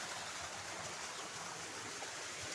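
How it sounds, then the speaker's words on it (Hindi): Heavy rain-swollen runoff rushing down a mountain stream channel in Uttarakhand, a steady, unbroken broadband roar of water that holds level and fairly distant throughout, with no voices. "आजकल इन गधेरों में देखिए कितना भयानक पानी बह रहा है, बारिश की वजह से बहुत ज़्यादा पानी आ रहा है आजकल।"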